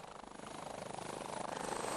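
A rented helicopter flies overhead on an EU mission in Kosovo, its rotor chopping in a fast, even pulse of broadband noise that grows slightly louder over two seconds, with no talking.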